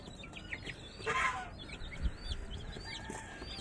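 Hungry young pet chicks cluck and peep in a busy cluster, with soft repeated calls and one brief louder squawk, heard close and fairly quiet with no talking.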